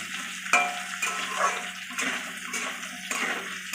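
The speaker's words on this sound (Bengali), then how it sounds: "এবার আলুগুলো দিয়ে একটু নাড়াচাড়া করে নেব" Potatoes tossed in a frying pan for a pumpkin and fish-roe dish, rhythmic scraping stirs about every half second over a soft wet sizzle, close and moderately loud.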